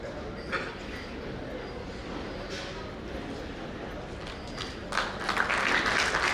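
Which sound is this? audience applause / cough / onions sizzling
audience applause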